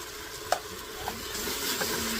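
A spoon stirs chili powder, turmeric and salt in an Instant Pot, giving a soft steady scraping with a faint sizzle beneath and a couple of light clinks against the pot.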